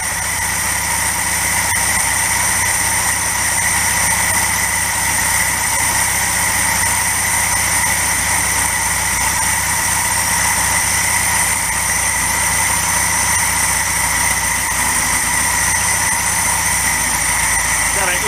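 A 1961 Volkswagen Beetle engine with an intake vacuum leak idles steadily nearby while being adjusted, a continuous droning hum with a whiny tone, and someone talks over it.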